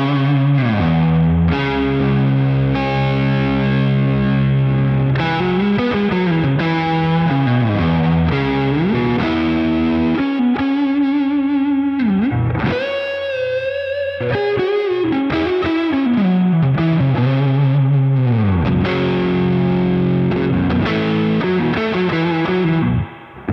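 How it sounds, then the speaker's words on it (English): An electric guitar, a Schecter Reaper 6, with a little overdrive and reverb plays a melodic solo line on the middle humbucker position, sustained bent notes ringing out with a slightly gritty, washy tone, played alone. "we're gonna just put on a little bit of overdrive."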